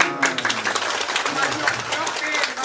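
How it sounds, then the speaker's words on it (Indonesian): Applause from an audience at a Balinese comedy show, brisk overlapping claps rising quickly after a short pause, with voices and laughter-like chatter running beneath. "Tepuk tangan dulu juga kawan dua ini."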